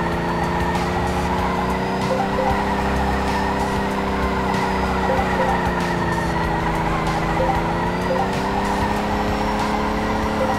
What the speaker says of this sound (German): Also dann machen wir einfach mal so einen langen Drift hier.